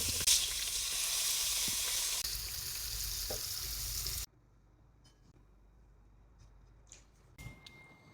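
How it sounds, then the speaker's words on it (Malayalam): Curry leaves crackle and sizzle loudly in hot coconut oil for a Kerala sardine dish, a dense hiss that stops abruptly partway through, leaving faint kitchen clinks. "വെളിച്ചെണ്ണ ഒന്ന് ചൂടായി വരുമ്പോൾ കുറച്ച് വേപ്പിലേക്ക് കൊടുക്കാം"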